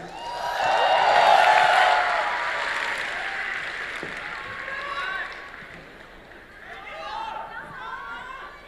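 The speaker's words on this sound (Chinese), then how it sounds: "谢谢大伙的掌声鼓励" Audience applause and crowd noise fill a Deyunshe xiangsheng (Chinese crosstalk) comedy show, swelling loudly in the first seconds and then settling into a lighter, sustained clapping and murmur with a few voices mixed in.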